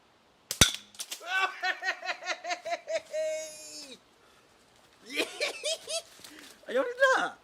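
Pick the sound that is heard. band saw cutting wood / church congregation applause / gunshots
gunshots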